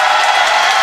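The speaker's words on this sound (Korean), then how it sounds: "이상으로 야차 선수께 다시 한번 큰 박수 부탁드리겠습니다" Applause for fighter Yacha at a Black Combat event: a dense, loud wash of crowd clapping filling the short moment without pause.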